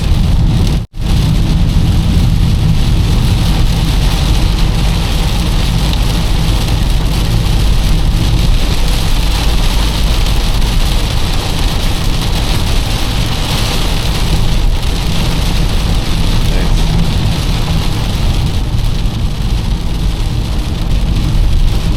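Loud, continuous rain roaring against a 2025 VW T-Cross during a highway drive in a passing storm, blended with road and cabin rumble, with one brief cut near the start and no talking.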